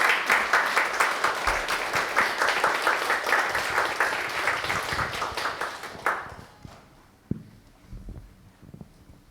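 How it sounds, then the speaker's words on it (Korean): Warm applause from a church congregation welcoming a preacher, dense and steady clapping for about six seconds before it quickly fades to a few scattered claps and quiet room noise. "우리 나오실 때 뜨거운 박수로 웰컴 하시겠습니다."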